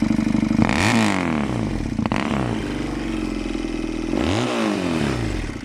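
A Mondial MR 250 Destro motorcycle engine runs loud and close, its pitch rising and falling through several rev swells.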